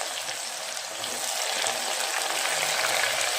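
Sliced onions fry in a pan for a Sunday chicken biryani, giving a steady, broad hiss of sizzling oil that holds evenly and swells slightly as it continues, with no voices.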